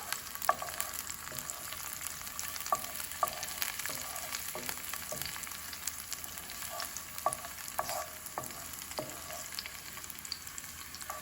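Garlic fries in oil over medium-low heat for a puttanesca sauce, giving a soft steady sizzle. A spoon scrapes and taps against the pan in irregular strokes as it is stirred, and no one speaks.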